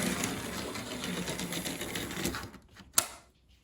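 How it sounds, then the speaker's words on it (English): Small motorized vehicle rolling over an HO scale model railway layout road surface with a dense, scrapey mechanical buzz that continues steadily, then drops away into near silence with one sharp click. "try and take away that scrapey mechanical sound"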